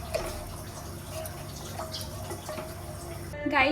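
Water is poured into kadhi simmering in a pot, giving soft splashy trickles and drips up close over a low steady background, ending in a brighter gush.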